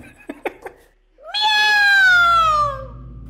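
A cat lets out one long, loud, drawn-out meow that slides slowly downward, following a few short knocks or taps, in a dim house at night.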